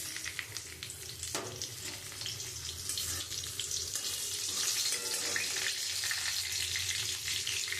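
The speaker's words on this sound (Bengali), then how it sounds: "আমি ওই তেলের মধ্যে শুকনো লঙ্কা, তেজপাতা, জিরে আর গোটা গরম মশলা" Dry red chillies, bay leaf, cumin and whole garam masala frying in hot oil in a kadai for a chicken curry, giving a steady close sizzle that swells slightly louder midway, with no talking.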